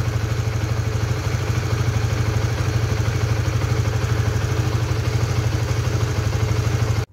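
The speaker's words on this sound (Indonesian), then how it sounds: "halus, masih halus untuk ukuran mesin yang udah 6 tahun" A six-year-old Honda Supra GTR 150 motorcycle engine idles steadily up close, a smooth, even putter with a light mechanical clatter running unbroken for about seven seconds before cutting off.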